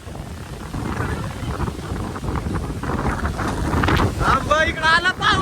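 Strong storm wind gusting over a village with mango trees during a rainstorm, a steady loud rushing buffeting the microphone throughout, with people talking and voices rising near the end.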